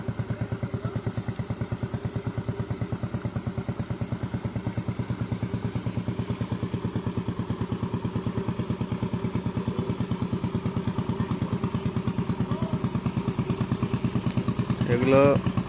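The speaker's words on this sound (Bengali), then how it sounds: "মেশিনের শব্দ, মানে ইঞ্জিন চালিত নৌকা।" An engine-powered fishing boat comes closer, its motor a steady, rapid, low putter that stays even and fairly close throughout and swells slightly at the end.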